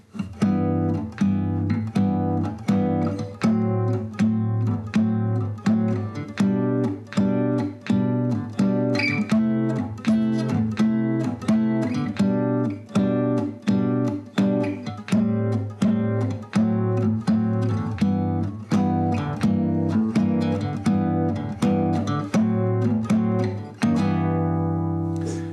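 A guitar plays a chord progression with inversions of the one chord leading to the four chord, a two chord into the five. The strummed chords are loud and steady throughout, with no talk.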